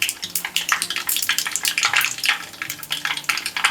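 About two spoons of mustard seeds sizzling and popping in hot oil with the gas just turned off, a dense rapid crackle with quick sharp bursts, close and loud.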